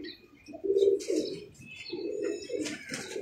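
Pigeons shut inside a rooftop loft coo in low repeated phrases, with a few chirps and a brief flutter of wings, fairly close and clear.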